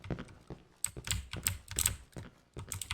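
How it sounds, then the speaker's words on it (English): Rapid, uneven typewriter-style key clacks in the horror game Cry of Fear, a few seconds of close, sharp typing in irregular bursts with no voices. "Was that a typewriter? Someone writing a novel?"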